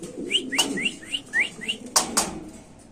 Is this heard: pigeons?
yes